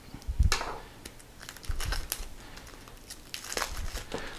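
Wrapped board game card decks being opened, with crinkly bursts of plastic wrap tearing and rustling close up, coming in several uneven clusters.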